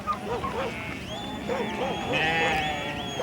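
Sheep on South American rangeland bleat in short, overlapping calls from several animals at moderate distance, over a steady background hiss, with talk over them.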